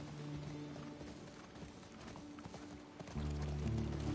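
A horse gallops in The Last of Us Part II, its hooves beating a quick, steady clip-clop that stays faint and distant throughout, then swells as a low rumble rises near the end.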